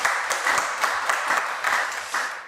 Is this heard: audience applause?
yes